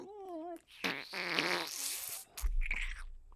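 A voice imitates a fart with the mouth, a buzzy sputtering blurt with wavering pitch, close and fairly loud, followed by a lower rumbling burst.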